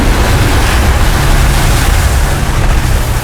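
A 4x4 van driving at full power through deep water, throwing up a loud, continuous roaring splash and rush of spray with no break.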